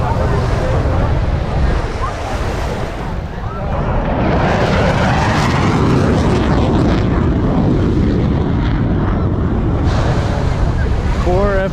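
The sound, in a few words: F-15 fighter jets flying over Miami Beach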